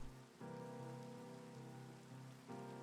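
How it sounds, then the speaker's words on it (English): Steady rain patters in Minecraft, a soft continuous hiss with a faint low drone underneath, swelling slightly at moments, heard alone without any talk. "And it's raining."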